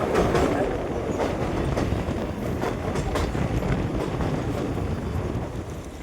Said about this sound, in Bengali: এখন আমাদের এই ট্রেনটা পাম্বাম দ্বীপ তথা রামেশ্বরমে ঢুকছে।